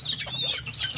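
Native chickens at a breeder's farm in the Bohol hills cluck and chatter steadily and close by, several birds overlapping in a continuous busy flock sound with no talking.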